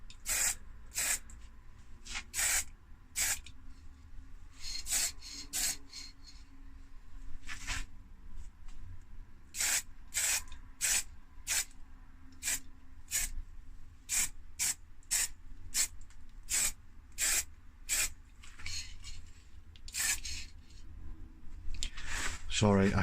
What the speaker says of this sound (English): I'm trying to film and spray at the same time